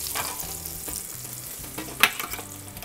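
Beef shoulder loin steak sizzles steadily in a hot pan with browned butter, a close, continuous frying crackle with a brief sharper spatter partway through.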